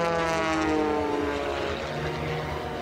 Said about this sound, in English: Melissa flies an Edge 540, a similar high-performance aircraft to Dave's MX-2.